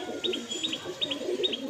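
A male pigeon at a home loft coos low and soft in a few rolling pulses, while sharper, higher chirps from other birds repeat in pairs over the top throughout.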